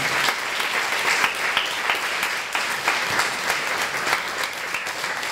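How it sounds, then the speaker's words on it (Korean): Sustained audience applause at an award ceremony honoring a chamber orchestra, dense steady clapping filling the hall throughout without pause. "다시 한번 이경선 교수님과 서울 비르투오지 챔버 오케스트라의 큰 박수 부탁드립니다."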